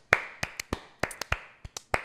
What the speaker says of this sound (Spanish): Aplaude también el Caster.